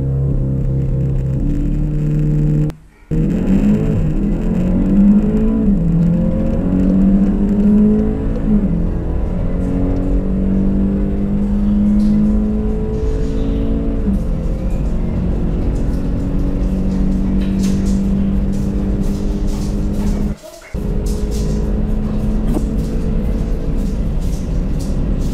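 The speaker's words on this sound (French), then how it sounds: "on va se préparer une petite accélération pour voir un peu ce que ça donne" A Volkswagen Golf GTI TCR four-cylinder petrol car accelerating hard, its engine note rising through the gears in long sweeps, loud and close, with two brief dropouts.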